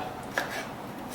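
Two quick knife chops of herbs on a board, a brief crisp tap near the middle and another at the end, with a faint hiss between.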